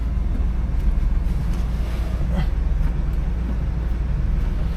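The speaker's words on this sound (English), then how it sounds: "A little bit of a cold start, so we're gonna let her warm up." A 1979 Cadillac Coupe DeVille engine idles steadily on a chilly 42-degree morning just after a cold start, a constant low rumble heard from inside the car with a faint thump or two partway through.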